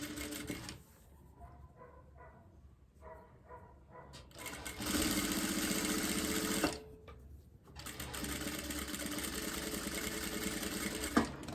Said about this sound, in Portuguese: vou rebater essa costurinha aqui bem na beiradinha.